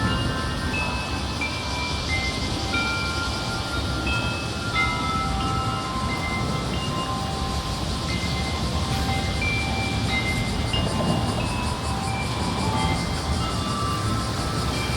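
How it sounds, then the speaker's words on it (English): A tram passing on a city street in Kochi, Japan, a steady, loud rumble of rolling wheels on rails with faint high squeals, sustained and close throughout, with no talking. "Trams are really cool here in Kochi"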